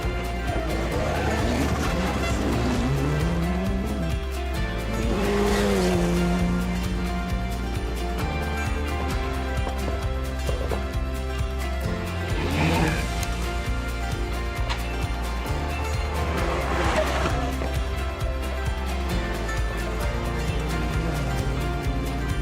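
A rally car at speed on the Rallye Rhône Charbonnières stage, heard steadily from inside the cabin: a constant engine drone with rising and falling revs as gears shift, plus a low road rumble throughout, with a voice faintly over it.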